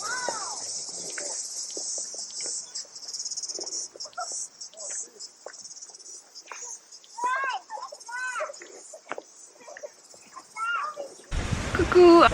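Crickets chirp steadily in a park, a constant high-pitched trill running under scattered quiet chatter and children's voices, with a brief louder knock near the end.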